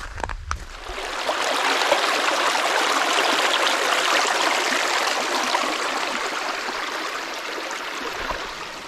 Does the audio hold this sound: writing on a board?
no